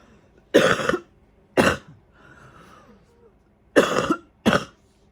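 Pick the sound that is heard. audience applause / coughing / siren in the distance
coughing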